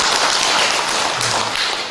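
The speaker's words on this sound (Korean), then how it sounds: "박수 한번 해볼까요?" Applause from a church audience, a dense, steady patter of many hands clapping at once, filling the room for a couple of seconds.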